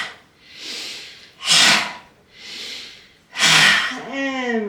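Slow, deep yogic breathing during a gentle yoga practice: two long soft inhales alternate with two louder, forceful exhales, close and clear, ending with a faint tonal hum.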